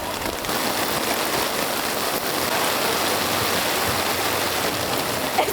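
Rain pours down steadily in Chiang Mai, Thailand, a loud, dense hiss of water hitting surfaces that continues evenly without any speech.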